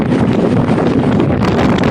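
Loud, constant seaside wind buffeting the microphone outdoors on the Camarines Norte coast, a dense roar that never lets up, with no voices.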